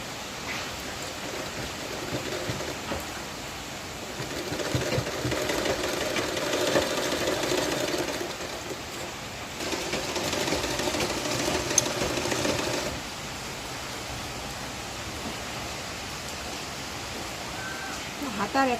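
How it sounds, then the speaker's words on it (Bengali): A sewing machine stitching a fabric sleeve runs in a steady whirring drone that swells louder through the middle stretches and eases off, close by, with a voice talking intermittently over it. "এবার আমি এটাকে মেশিন দিয়ে সেলাই করে টাক দিয়ে রেখে দিলাম।"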